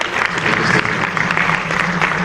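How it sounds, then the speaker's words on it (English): Audience applause for a Mano River Union representative, a dense steady wash of clapping at close range, loud and continuous with a faint undertone of voices. "Big round of applause for the Mano River Union"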